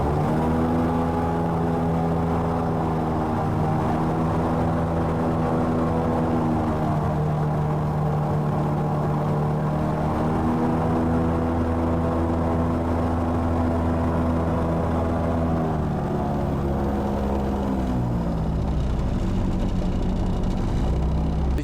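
A Nerpa 445KD cabin motorboat engine running steadily, loud and close, with a droning hum whose pitch shifts slightly as the throttle changes.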